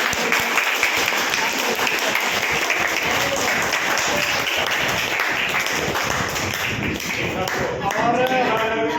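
A crowd at a meeting claps loudly and continuously, a dense close wash of applause lasting several seconds, with a voice faintly audible near the end.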